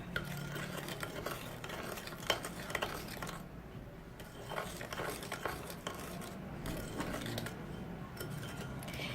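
A spoon stirs and scrapes a Dudu-Osun black soap face mask paste in a small bowl, producing quiet, irregular clicking and swishing strokes close up, with no voices.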